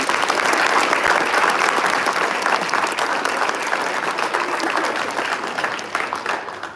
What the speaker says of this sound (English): Let's give one more round of applause to all of our winners